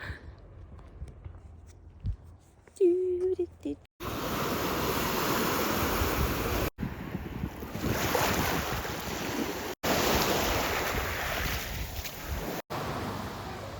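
Black Sea waves and surf roar close by at Odesa, buffeted by wind noise on the microphone, with a few brief cuts; a faint tone precedes it.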